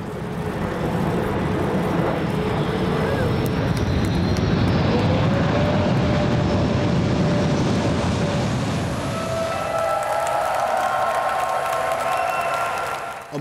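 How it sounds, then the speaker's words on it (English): A Boeing 777X jet touches down at Boeing Field at the end of its first test flight, a loud sustained engine roar that rises, then eases into a quieter whine and rush as it rolls out. "The jet touching down at Boeing Field."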